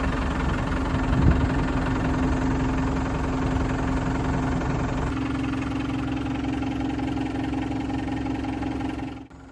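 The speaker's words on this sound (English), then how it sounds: "we're good to fire up the machine and test for leaks" A Ford 555E New Holland backhoe's diesel engine runs steadily at idle after being started, a loud, close, continuous rumble with a knocking throb, and the tone shifts slightly midway.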